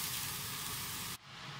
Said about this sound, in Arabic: ادهن الباذنجان هالشكل بالزيت وبعدين احطها بالمقلة